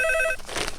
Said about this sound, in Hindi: देखना भाई, शायद पांगे का फोन होगा